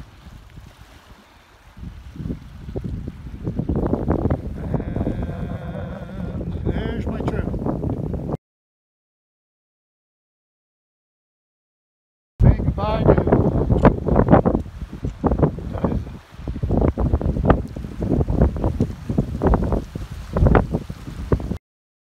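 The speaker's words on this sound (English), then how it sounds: "The wind's blowing pretty good." Strong wind gusts roar against the microphone on a mountain lake trail, loud and buffeting in two stretches separated by a silent gap. A person talks over part of it.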